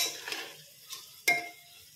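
Masala rice with onion masala, chilli powder and salt stirred in a pan, giving a few soft scrapes and clinks over faint sizzling, with one sharper knock near the end.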